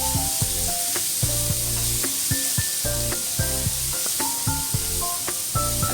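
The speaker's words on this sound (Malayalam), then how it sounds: "ഇനി ജിഞ്ചറും ഗാർലിക്കും ഒന്ന് മൂത്ത് വരട്ടെ." Ginger garlic paste fries on a low flame for matar paneer masala, giving a steady, close, unbroken sizzle with a tonal hum running underneath.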